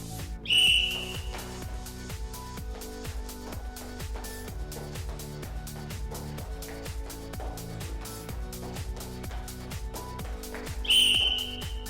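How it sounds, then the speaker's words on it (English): A shrill whistle blast sounds at the start and again near the end of a roller derby fitness test, with a steady rhythmic beat and thumping running between them. "before the whistle went"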